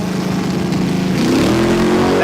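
A leaf spring drag race car accelerates down the track at a radial tire racing event, its engine note climbing steadily in pitch as it pulls away, loud and continuous.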